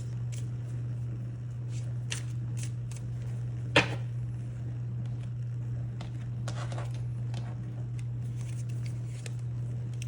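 Tarot cards being shuffled in quick, papery bursts, close and fairly soft over a low steady hum, with one sharper snap partway through.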